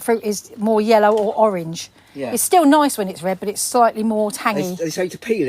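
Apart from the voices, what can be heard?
No everyday noises stand out.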